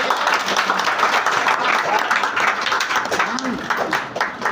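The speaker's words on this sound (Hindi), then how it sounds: "सारे लोग स्टैंड अप, खड़े होइए एवरीवन, इनके लिए जोरदार ताली बजाइए" A crowd at a gathering, asked to stand, applauds loudly in sustained, dense clapping that stays steady and close throughout, with voices mixed in.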